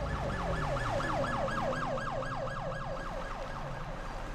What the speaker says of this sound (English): I hear hella sirens.